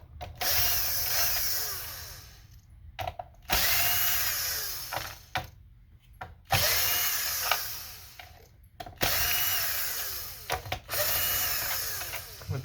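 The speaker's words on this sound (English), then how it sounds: "We're taking out all the green screws here" A powered Torx driver unscrews screws from an Xbox Series S console in repeated whirring runs of two to three seconds each, separated by short pauses and clicks, close and loud.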